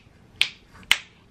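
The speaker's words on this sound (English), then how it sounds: "I wish I could just snap my fingers and this would be done like Mary Poppins." Two sharp, crisp finger snaps ring out close by, about half a second apart, each a single bright crack against a quiet room.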